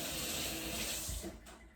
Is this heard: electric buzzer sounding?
no